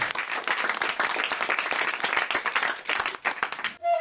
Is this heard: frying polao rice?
no